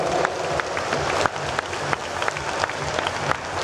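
A crowd applauds steadily at a disabled bodybuilding competition as the competitors are presented, a dense close clapping with a few sharper peaks.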